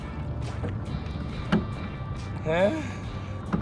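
Oars dip and pull through water as a boat is rowed, with soft rhythmic splashes and creaks under quiet talk and light wind.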